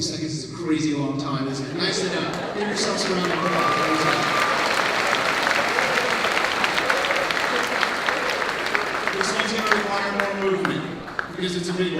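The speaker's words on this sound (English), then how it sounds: "Give yourselves a round of applause." Audience applause fills the hall at a high school moving up ceremony, steady and broad for about twelve seconds, with voices and a few shouts mixed in beneath the clapping.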